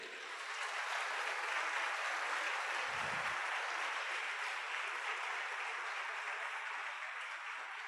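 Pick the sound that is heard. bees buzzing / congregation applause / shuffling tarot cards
congregation applause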